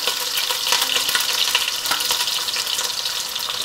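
Damp pieces of meat browning in four spoonfuls of oil in a pan give off a loud, continuous close-up sizzle with popping crackles, alone without any voices.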